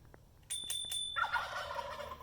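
Several turkeys gobble loudly together in a burst of overlapping calls that starts just after a bell rings a few times nearby.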